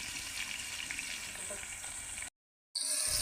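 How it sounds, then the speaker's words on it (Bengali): A generous amount of onion fries in oil in a cooking pot for a duck meat curry, giving a steady, close crackling sizzle that cuts out briefly before resuming. "হাঁসের মাংস রান্না করার জন্য এখানে আমি হাঁড়িতে পেঁয়াজ ভাজার জন্য দিয়ে দিয়েছি পর্যাপ্ত পরিমাণে পেঁয়াজ, তেল"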